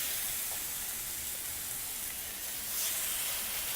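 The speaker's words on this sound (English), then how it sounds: "this is when I'm going to take my steak and put it on the skillet" A rib eye steak sizzles steadily on a hot, smoking dry skillet with no oil, a continuous even hiss at moderate volume, with no talking.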